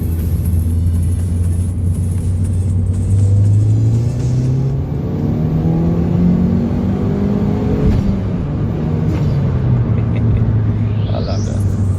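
A tuned Mitsubishi Colt CZT Ralliart with an HKS intake pulls hard from inside the cabin, a loud steady engine drone climbing through the gears with brief dips at each shift.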